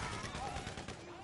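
Assault-rifle fire in GTA Online, a rapid, fairly quiet burst of repeated shots over about a second, with a voice talking underneath.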